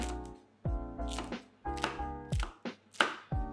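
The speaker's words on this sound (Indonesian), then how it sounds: "lombok digiling bersama terasi bakar dan garam." Chili is ground with toasted shrimp paste and salt, giving close, repeated rhythmic pounding and grinding strikes, roughly one every half second, with sharp crunchy attacks.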